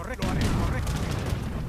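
Cannon fire in the video game Age of Empires 3, dense overlapping booms and gunfire crackle in a chaotic battle, loud and continuous, under excited talking.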